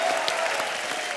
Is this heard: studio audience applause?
yes